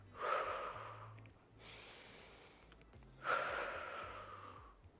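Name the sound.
breathing out and in during resistance band exercise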